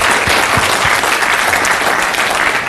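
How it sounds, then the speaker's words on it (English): A live seminar audience breaks into loud, dense applause, a continuous close wash of many hands clapping at once. "Round of applause, please."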